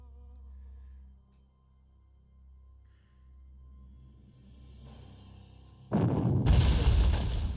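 Artillery fires in the Panzer Corps World War II strategy game, with a sudden loud blast and crackling burst arriving near the end after a long quiet hum.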